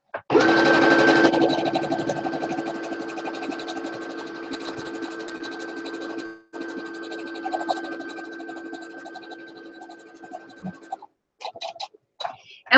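A sewing machine top stitching an apron, running in a loud, steady whirring burst for several seconds, pausing briefly, then running again before a few short stop-start stitches.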